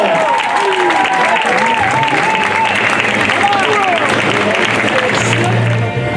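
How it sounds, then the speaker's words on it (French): Audience at a Monday-night radio singing contest gives a loud, sustained round of applause for a contestant named Mathilde, with cheering and an announcer's voice carrying over the clapping throughout. "Un tonnerre d'applaudissements pour Mathilde."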